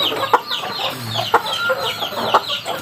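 A black hen clucking in a backyard chicken pen, soft repeated clucks close by with faint bird calls in the background.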